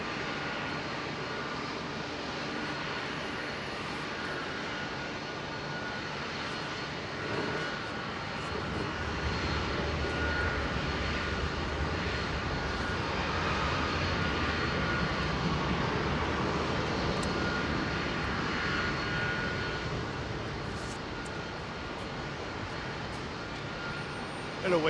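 Airliner with large winglets at London Heathrow, a long steady jet engine roar heard from a distance, swelling gently through the middle and fading a little toward the end.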